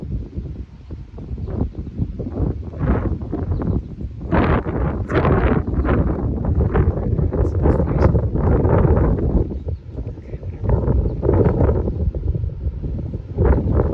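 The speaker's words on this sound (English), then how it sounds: "And awfully windy." Strong gusts of wind buffet the microphone on a motorcycle ride, a loud low rumbling roar that rises and falls throughout.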